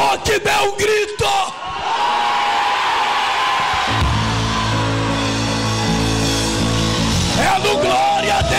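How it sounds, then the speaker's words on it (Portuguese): A church congregation at an evangelical service shouts together in a loud, sustained roar after a few short bursts of cries, with a steady musical drone rising underneath. "abra tua boca e dê um grito"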